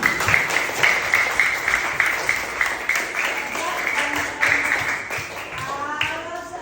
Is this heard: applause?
yes